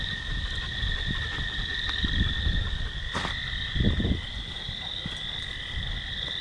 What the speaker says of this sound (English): Can hear all the frogs. Crickets.